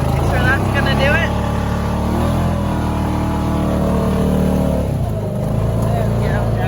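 A four-wheel-drive vehicle's engine drones and revs steadily while it is driven slowly along a woodland trail during trail maintenance, with people talking over the motor throughout.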